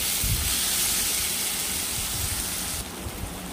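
Chopped tomatoes fry with onion and garlic in a hot pan, giving a steady, close sizzling hiss that runs the whole time with only slight dips.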